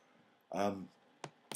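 Two sharp, close computer keyboard key taps, pressed as a Photoshop shortcut, land about a third of a second apart after a brief voiced sound.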